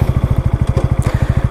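A Keeway Superlight motorcycle engine idles in a fast, steady chugging pulse, close and loud, as the rider works to shift it into gear.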